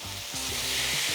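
Food sizzling on a Ninja Sizzle electric grill, a brief close hiss of frying that stays steady and fairly quiet, with no voices.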